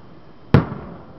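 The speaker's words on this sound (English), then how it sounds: "We're watching the fireworks." A single firework bursts at a distance with a sharp thump, then a short rumbling tail fades out over a quiet background.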